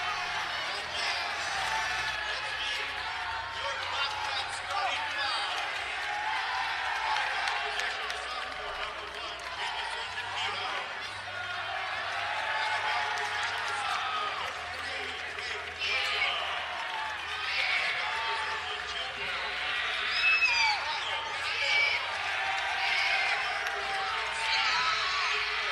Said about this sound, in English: definitely a ruckus crowd inside the Roundhouse on a chilly night